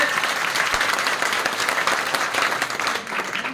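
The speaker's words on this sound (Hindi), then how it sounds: "एक बार जोरदार तालियां बजाकर आशा मीना जी का स्वागत करेंगे।" Dense crowd applause at a nomination rally for a woman candidate, steady and fairly loud throughout, with a faint voice heard underneath.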